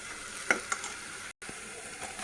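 Onions frying with salt in a pan, a brief steady sizzle with a couple of sharp utensil clicks and scrapes, interrupted by a momentary dropout.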